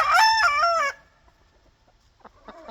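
A yellow-legged game rooster crows once, loud and close, a harmonic crow lasting about a second, followed by quiet and a few faint clucks near the end.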